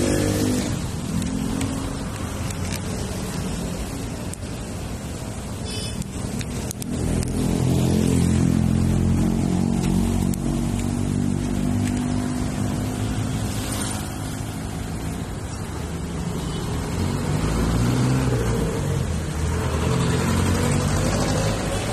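Steady motorcycle engine drone on a city ride, loud and continuous with rising and falling revs, close to the microphone and with no talk over it.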